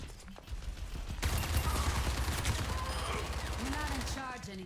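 Rapid automatic gunfire rattles in Overwatch 2, a dense sustained burst of shots starting abruptly and continuing for several seconds, loud and close, with game effects and a brief voice mixed in.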